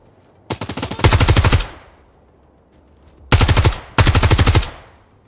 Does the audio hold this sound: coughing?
no